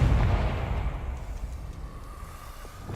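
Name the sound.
Confringo spell explosion from a video game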